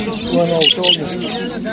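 Birds chirp and coo at a bird market in Bukhara, with short high calls rising over steady crowd chatter and nearby voices.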